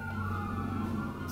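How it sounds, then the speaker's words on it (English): Emergency vehicle sirens wail outside, steady and continuous but somewhat muffled and distant, running under the room for the whole moment. "excuse the sirens there"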